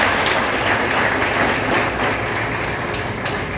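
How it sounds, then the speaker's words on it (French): Steady audience applause fills a graduation-style parchment ceremony, a dense, continuous wash of clapping with occasional sharper individual claps throughout. "Océan Anouki, sous vos applaudissements, s'il vous plaît."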